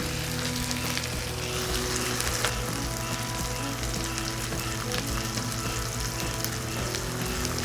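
Pecan-breaded chicken breasts fry in a pan with a dense, steady sizzle and crackle, close and continuous without pause.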